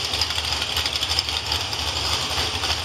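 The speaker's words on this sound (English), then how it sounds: "Alyssa Quaid from Mechanicsville in his 87 Mustang with a 400 engine in it." A 1987 Ford Mustang with a 400 engine idles at a drag strip, a steady, loud, low rumble with continuous broadband roar and no pauses.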